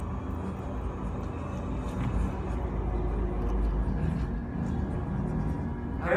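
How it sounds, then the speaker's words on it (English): A rover driven at Johnson Space Center for a Mars VR experience gives a steady, close low rumble with a continuous motor drone and faint higher whirs, sustained without pause. "even the sound in the rover was recorded by driving the rovers at John's Space Center"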